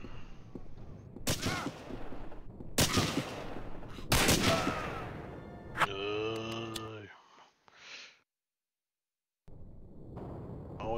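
Sniper and rifle fire in the Hidden & Dangerous wartime shooter, several sharp loud cracks in quick succession with a wailing groan after them, then a brief silence before ambient noise returns.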